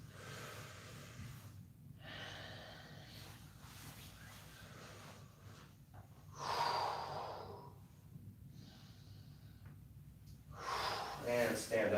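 Deep audible breaths during a held yoga pose, slow inhales and exhales repeating at intervals, close and soft, with a low background hum.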